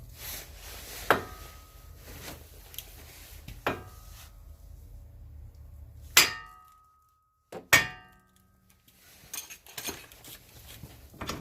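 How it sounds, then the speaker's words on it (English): Several sharp metallic strikes of a 3-pound hammer on an outer tie rod end of a Ford Escape, spaced a few seconds apart and ringing briefly, two of them loud and isolated against near silence. "this is where I go back to my 3-pound hammer, and I want to hit right here"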